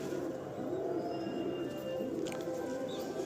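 Pigeons at a pigeon sale in Nepalgunj coo in a steady, overlapping murmur of low throaty calls that continues throughout, close and moderately loud, with no talk.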